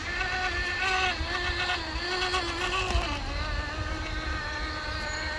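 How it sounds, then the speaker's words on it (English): A Traxxas TRX4 Defender RC crawler with brass upgrades lets out a high, whiny gearbox drone with a steady motor hum that wavers in pitch, close and continuous. "There's that whiny gearbox."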